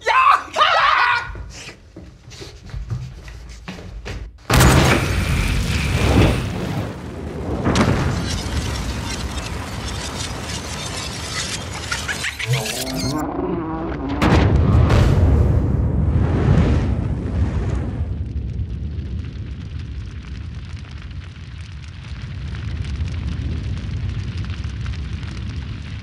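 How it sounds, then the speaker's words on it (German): A camping gas cartridge set over a flame bursts in a loud, sudden blast, followed by several seconds of roaring, crackling noise that fades into quieter rumble, with voices heard around it. "wie lange dauert es, bis eine Campinggaskartusche, die über einer Flamme steht, explodiert"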